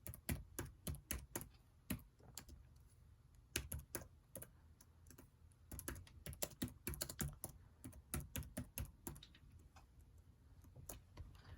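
Steady typing on a computer keyboard entering a calculus question into a classroom assignment, with rapid clustered key clicks and brief pauses, close and fairly quiet, no talking.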